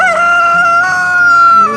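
A rooster crows in one long, loud, sustained call, close by, with a faint low murmur of farmyard sound underneath.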